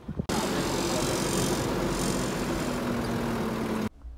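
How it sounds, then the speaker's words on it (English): An airseeder blower driven from a tractor's PTO shaft runs in a steady, loud mechanical drone with a faint rising whine. It starts abruptly after a brief knock and cuts off near the end. "The operator has engaged the PTO gear and now the PTO shaft is running so that the blower"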